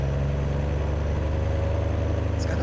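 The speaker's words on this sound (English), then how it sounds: "It's got a good engine sound to it" Truck engine running in Farming Simulator, a continuous low-pitched drone with a steady throbbing pulse, loud and close throughout with no talking.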